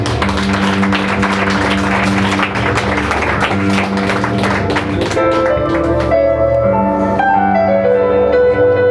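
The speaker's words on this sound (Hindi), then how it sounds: "एक बार जोर से परमेश्वर की महिमा के लिए ताली हो जाए" Loud, sustained clapping from a worship-meeting congregation, blended with music that carries on beneath it and then stands alone as the applause thins toward the end.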